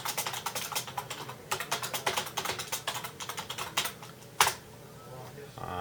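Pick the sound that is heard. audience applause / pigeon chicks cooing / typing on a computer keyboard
typing on a computer keyboard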